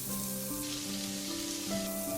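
Sliced onions fry in ghee in a pan for kuska biryani, giving a continuous close sizzle with faint stirring scrapes and a steady crackle under a low background hum, no talking.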